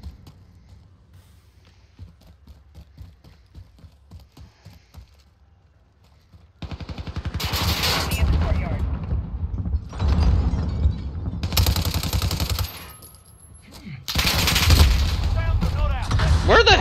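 Gunfire from Call of Duty Modern Warfare during a hardcore team deathmatch on the Khandor Hideout map: faint footsteps and ticks at first, then loud close bursts of automatic fire in several separate volleys.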